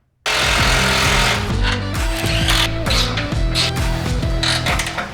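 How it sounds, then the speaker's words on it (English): Rapid ratcheting clicks and mechanical whirring as 10mm Allen bolts are tightened on an aluminum skid plate for a 2021+ Ford Bronco, loud and close, running continuously with a steady rhythm. "put some blue Loctite on the provided 10mm Allens, and go ahead and tighten."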